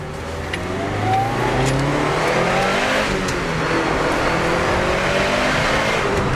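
A modified Mitsubishi Lancer EVO IV with suspension and minor engine mods accelerates hard, engine rising steadily in pitch through the revs with a roaring, loud continuous sound and no talking.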